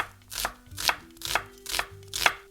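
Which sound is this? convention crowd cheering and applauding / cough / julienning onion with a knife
julienning onion with a knife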